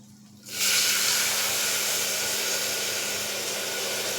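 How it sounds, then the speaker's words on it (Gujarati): After a brief quiet moment, a steady hissing rush of water pours continuously into a pressure cooker with cracked wheat, fairly close and even in level. "તે જ વાટકીના માપ પ્રમાણે બે વાટકી પાણી એડ કરીશું"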